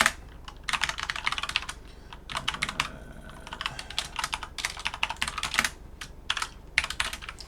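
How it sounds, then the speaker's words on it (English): Rapid typing on a computer keyboard while writing in a text file: dense, continuous clicking of keys in quick bursts with brief pauses, close and clear, no talking. "I'm typing this in a text file"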